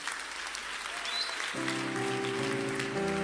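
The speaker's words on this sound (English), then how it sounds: "Clap for yourselves." A church congregation claps for itself during a sermon, a steady wash of clapping filling the whole stretch, with an organ or keyboard chord entering partway through and holding underneath.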